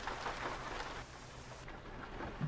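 Steady rain hisses in Euro Truck Simulator 2 during a truck drive, a broad continuous wash that thins partway through, with a faint low rumble beneath and no talking.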